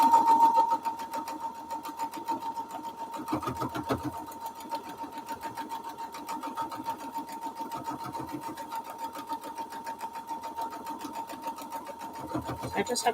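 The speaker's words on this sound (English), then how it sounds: "I just have to sew on the line." A sewing machine runs steadily, stitching foundation-paper-pieced strawberry quilt pieces. The close motor hum carries a rapid needle rhythm, with a few brief pauses and restarts.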